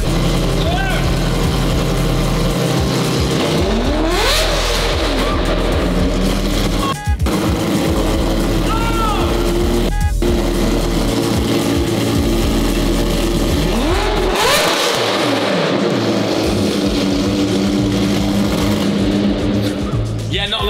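A McLaren 720 GTR engine revs loudly and repeatedly through its exhaust, rising and falling in pitch over a steady rumble, with people talking in between the revs.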